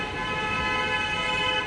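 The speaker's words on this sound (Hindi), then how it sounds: "बहुत ही शोर है यार इधर पीछे, गाड़ी कार जा रहे हैं ना" A vehicle horn sounds with a sustained, steady toot over the rumble of passing traffic, loud and close, lasting under two seconds.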